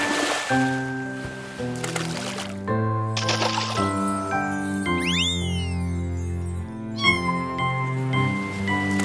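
A cartoon cat meows over bright background music with chimes and tinkling effects, the cries clear and prominent alongside the score.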